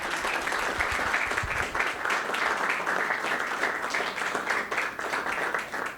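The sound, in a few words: audience clapping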